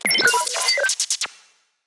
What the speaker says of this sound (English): I used some of the robot bleeps from the Sci-Fi Drums Bleeps and Blops pack